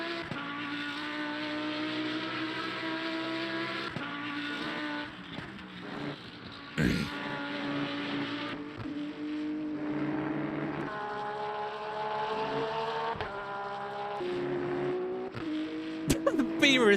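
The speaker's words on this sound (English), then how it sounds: "That's what the Audi sounds like." Audi GT race car in the Le Mans Ultimate sim, its engine droning loud and steady with harmonic tones rising and falling through gear changes over about seventeen seconds.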